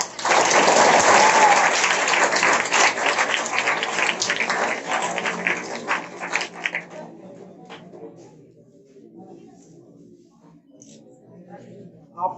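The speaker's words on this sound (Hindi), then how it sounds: "जोरदार ताली के साथ स्वागत" Loud, sustained applause from a class audience welcoming a teacher onto the stage at a Teacher's Day celebration, dense clapping that thins out and fades after about seven seconds.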